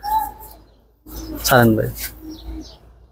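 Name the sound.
silver pigeons cooing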